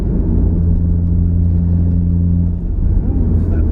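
A Mitsubishi Evo X engine with bolt-on upgrades rumbles loudly from inside the cabin, a steady low drone with a sustained hum, then shifts and surges briefly near the end.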